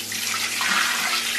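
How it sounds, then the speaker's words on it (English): Running tap water splashing while something is rinsed under it, a steady close rushing stream for a second and a half, alone with no talking. "so I'm rinsing it"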